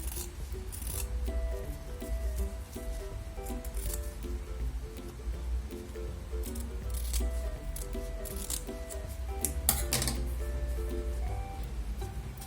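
Scissors snip through fabric for a handmade baby shoe, a quiet, close run of small crisp cuts and rubbing over a low steady hum.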